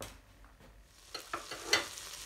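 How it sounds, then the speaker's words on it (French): Butter melting in a large saucepan makes a faint sizzle beneath low background hiss, with a few soft stirring scrapes toward the end, heard up close and without speech. "Dans ma casserole, j'y mets le beurre et je fais fondre."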